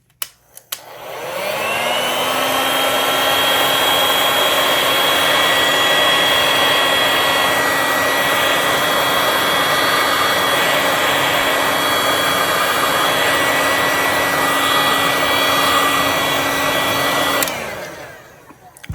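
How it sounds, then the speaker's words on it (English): A heat gun blows hot air onto resin poured into a beach-themed clock, a loud, steady whining roar that spins up, holds constant for about fifteen seconds, then cuts off abruptly, close and alone. "we're going to heat gun it and see what happens"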